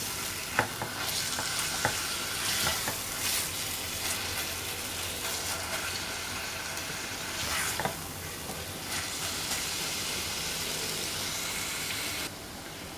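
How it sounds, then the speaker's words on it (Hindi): Chicken mince fries in a pan with a steady, close sizzle, broken by occasional scraping and clacking strokes as it is stirred, with no talk. "अब इसमें ये चिकन का कीमा शामिल कर लेंगे और इसको भून लेंगे अच्छी तरह।"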